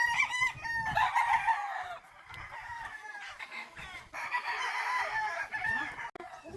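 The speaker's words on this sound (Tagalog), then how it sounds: "meron din po silang mga alagang manok na pwedeng katayin" Farmyard chickens kept for slaughter on a rural Philippine province homestead cluck steadily while a rooster crows repeatedly, the calls close and fairly loud with a brief pause near the end.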